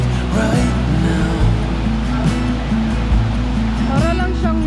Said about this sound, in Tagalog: Ang sarap pakinggan ng tubig